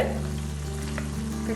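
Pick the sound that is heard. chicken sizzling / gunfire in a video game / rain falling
chicken sizzling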